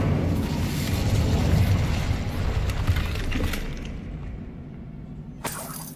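Incendio fire spell cast in the Hogwarts Legacy video game, a loud rushing, crackling burst of flame that roars for a few seconds, then fades, with a short crack near the end.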